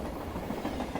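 A long freight train rolls past with a steady low rumble and faint clickety-clack of wheels on rails, moderately distant and continuous.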